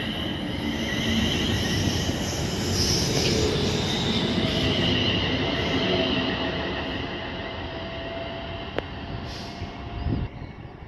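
A Class 350 electric train, unit 350111, pulls away from Wolverton on the West Coast Main Line with a steady rumble of wheels on rails, faint squeals and a brief air-brake hiss near the end.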